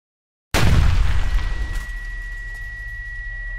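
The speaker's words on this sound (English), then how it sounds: "The explosion is small and precise." A sudden, sharp explosion bursts in after a moment of silence, followed by a decaying rumble and a lingering high ringing tone.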